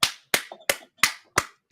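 Six sharp hand claps ring out at a steady, slightly uneven pace, close and loud, with brief quiet gaps and faint background murmurs between them.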